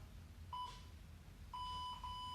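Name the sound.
workout timer buzzer beeping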